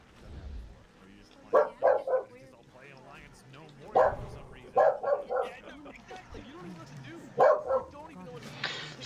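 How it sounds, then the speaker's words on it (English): A dog barks and yips in several short bursts, fairly close, over ongoing conversation between people. "Sorry about the dog."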